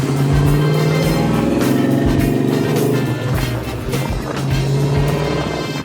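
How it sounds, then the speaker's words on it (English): A 1969 Chevrolet Camaro SS drives under load, its engine a loud, close droning roar that rises and falls as it shifts, with steady road noise and no talking. "so we just drove the Camaro"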